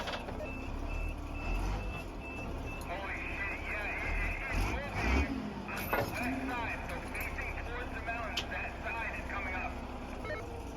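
A loader's heavy diesel engine labors steadily, its wheels lifting off the ground, while repeated reversing beeps chirp over the rumble and people talk over radio nearby.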